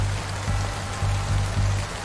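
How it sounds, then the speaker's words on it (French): Heavy rain falls steadily at midnight, a loud, continuous wash of noise with a low rumble underneath and no pauses. "Une pluie soudaine tombe lourdement à minuit"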